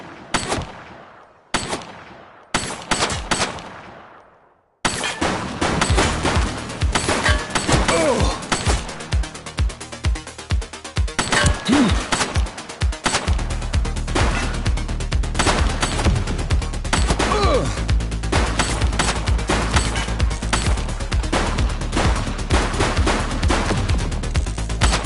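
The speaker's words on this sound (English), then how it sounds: "She's shooting!" Gunfire in The Precinct video game on PS5 opens with a few separate loud shots, then gives way to dense, rapid bursts of firing with crashes and impacts under a constant heavy rumble.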